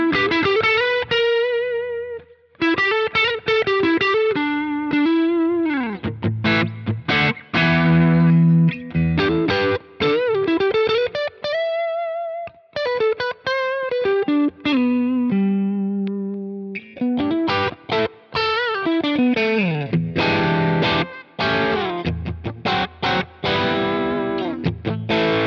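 A Fender American Vintage II 1965 Stratocaster with a mild, crunchy low-gain Marshall-style overdrive plays quick melodic licks, bends and choppy chords in a continuous run, with no voices.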